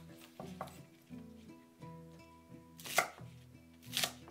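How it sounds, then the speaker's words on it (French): A knife chopping three chives into short lengths on a board, several close, soft thuds spaced irregularly, with two sharper, brighter strikes toward the end. "Je coupe 3 cives en tronçons"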